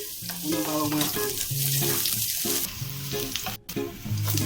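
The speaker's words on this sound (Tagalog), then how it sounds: "Gisa natin ng sibuyas at saka bawang. Unang bawang muna." Garlic sautéing in a little cooking oil, a crackling sizzle running throughout while a voice talks intermittently over it at close range.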